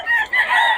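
Chickens and roosters at a Bocaue market give a short burst of loud, close clucking and squawking, with no talk.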